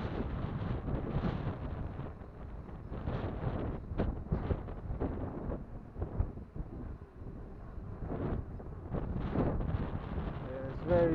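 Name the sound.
strong wind on the microphone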